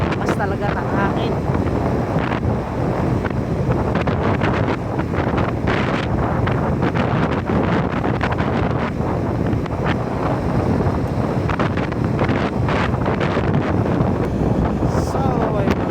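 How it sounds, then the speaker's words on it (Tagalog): Strong wind blasts the microphone during a sandstorm near a boat and water, a continuous loud roaring buffet throughout, with a voice speaking faintly underneath. "Talaga ng hangin."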